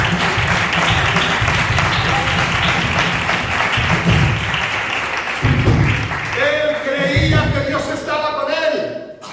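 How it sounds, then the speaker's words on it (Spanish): A church congregation claps loudly and steadily as a dense, continuous wash of applause, with voices and music-like tones rising beneath it toward the end. "Denle un aplauso a Dios"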